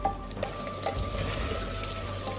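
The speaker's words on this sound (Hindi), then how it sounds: "मिक्स करते हैं और इसको हाई फ्लेम के ऊपर भूनते हैं।" Chicken with green chillies fries on a high flame in a steady, close sizzle with faint stirring scrapes and no talking.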